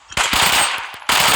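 Automatic gunfire in an online shooter game, a loud sustained burst of rapid shots lasting most of a second, a brief pause, then another burst starting.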